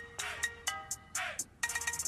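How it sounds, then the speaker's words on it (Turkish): A phone ringtone rings nearby, rhythmic electronic tone bursts repeating with short gaps and quickening into a rapid run at the end. "Telefon."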